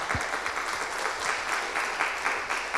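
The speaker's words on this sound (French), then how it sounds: "Je vais vous applaudir." Audience applause following a talk at a conference on health spending, a continuous, moderately faint wash of clapping with slight swells, heard alone.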